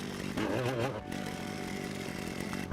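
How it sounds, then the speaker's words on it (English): A powered auger drills a post hole in sand, giving a loud, steady, buzzing engine drone close by that holds for the whole short stretch, with a brief rise in strain near the start. "I drill a quick post hole in the sand."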